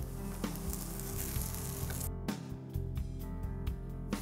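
Mustard seeds, curry leaves and spices sizzling in a hot pan, a loud continuous crackling fry with small pops and spits, briefly thinning midway before resuming close up.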